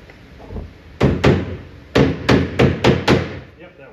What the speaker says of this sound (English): Maybe we'll tap it in with a hammer.